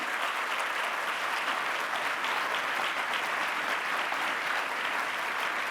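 A crowd applauds Aung San Suu Kyi at a student question session, a dense, even wash of clapping that holds at the same level throughout without letting up.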